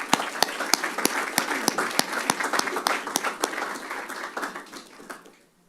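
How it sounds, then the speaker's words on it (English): A lecture audience at a Martin Luther King Jr. memorial event gives a round of applause: sharp, close individual claps over a dense patter that thins and fades out at the end. "Let's give Zion another round of applause."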